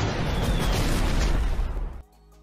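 A Kaboom explosion sound effect fires from a chat command, a loud close boom that roars and rumbles for about two seconds and then cuts off into quiet.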